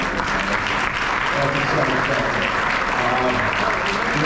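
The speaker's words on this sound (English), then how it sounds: "let's clap it up for that" Dense, sustained audience applause fills a high school basketball end-of-year awards banquet, loud and continuous throughout.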